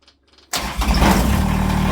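A diesel engine with glow plugs cranks and catches after a short quiet pause, then settles into a loud, steady, rumbling idle close by.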